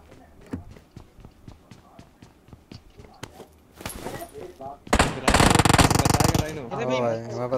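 Video game gunfire crackles in quick rhythmic shots, then swells into a dense, loud burst of rapid fire and noise near the end, with a voice present at times.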